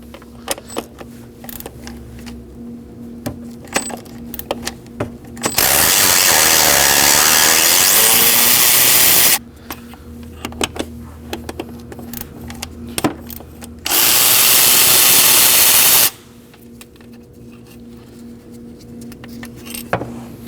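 Power tool whirring in two long, loud bursts as starter bolts are removed from a 2011-2016 Kia Optima, separated by quieter stretches of light clinks and handling noise.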